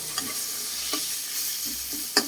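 Khao soi stir-fries in a pan with a steady hiss of sizzling oil, broken by a few quick spatula scrapes, the last one sharper and louder.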